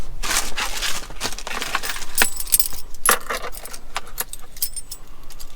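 A bunch of keys on a truck keychain jangles and clinks in bright, irregular metallic bursts close at hand for several seconds.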